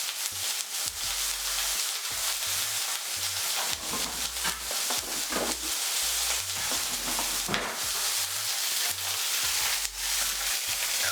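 Thin tamarind-glazed fish sears in a hot pan with a steady, loud sizzle that runs throughout, with small crackles and a few scraping touches and no talking.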